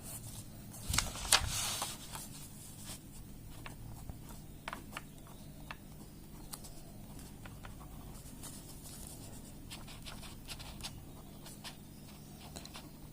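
A chemistry compound is handwritten, probably pen on paper, as soft faint scratching that runs steadily under a low background hum, with a brief louder rustle near the start and no voice.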